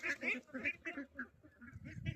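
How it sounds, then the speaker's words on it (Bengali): Ducks quack in a rapid run of repeated calls at a farm duck enclosure where they are feeding, close and fairly loud, with no talking. "সবাই দেখো হাঁসগুলো কত সুন্দর খাবার খাচ্ছে।"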